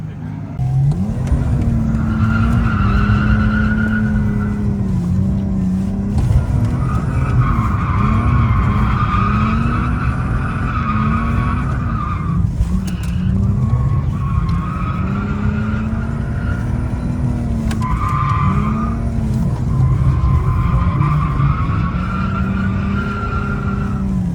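A BMW E46 drifts around a track on a drift day, engine roaring steadily at high revs while the tires squeal and skid loudly in long repeated sweeps over about twenty-four seconds.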